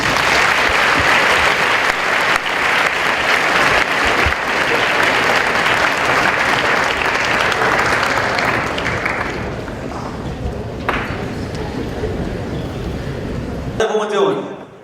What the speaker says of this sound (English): Please give a warm welcome to our 2018 Martin Luther King Day keynote presenter, Adam Falkner.